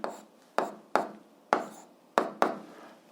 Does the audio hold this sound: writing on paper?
yes